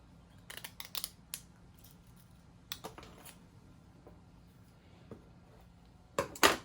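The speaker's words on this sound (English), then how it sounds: "cut out some of our metal" Scissors snip through metal mesh for a motorcycle fairing or bumper repair, giving scattered crisp cuts, some in quick pairs, with a louder cluster at the end.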